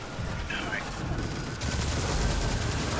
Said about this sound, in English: That SMG kind of reminds me of Risk Runner and how it sounds.